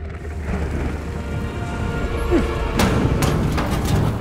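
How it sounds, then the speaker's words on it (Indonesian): Steady rain falls outdoors as a thunderstorm approaches, with low rumbling throughout and a couple of sharper thunder cracks near the end. The sound is dense and continuous at moderate loudness. "Di luar, badai petir mulai mendekat."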